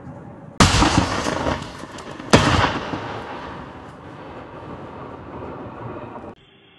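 Weapon fire at night during a military engagement on the border posts: two loud, sharp blasts with a few seconds between them, each followed by a long rumbling echo that fades into the distance.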